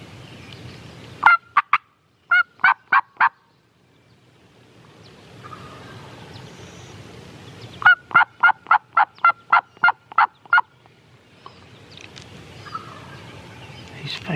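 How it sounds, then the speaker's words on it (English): A wild turkey gobbler, triple-bearded and around 25 pounds, gobbles from a hillside in bursts of sharp rattling notes, first a short run and then a longer string, fairly loud over quiet woods. "he is gobbling at everything I do"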